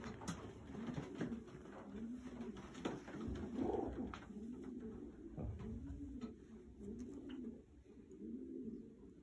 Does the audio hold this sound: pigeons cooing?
yes